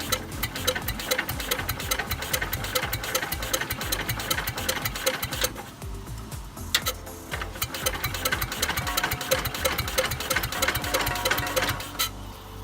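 A 1967 Cub Cadet tractor engine turning over on a jump from a van, with a fast, steady mechanical chatter of cranking that runs close and loud for the whole stretch. A brief dip comes midway.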